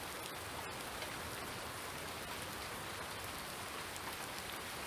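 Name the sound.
rain in video game Farming Simulator 2019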